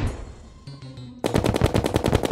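Minishark gun firing in Terraria, a rapid, steady burst of loud repeated shots starting partway through after a quieter stretch of game sounds.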